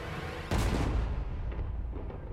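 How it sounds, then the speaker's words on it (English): A single heavy boom of cannon fire at a fireworks show bursts out suddenly, followed by a rumbling roll that fades, with a fainter second thud trailing behind. "the cannons"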